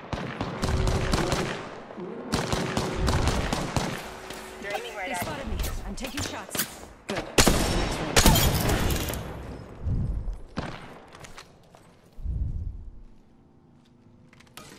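Gunfire in the Apex Legends video game, dense bursts of rapid shots and booms arriving in waves, loud and close, with pauses and scattered impacts between the volleys.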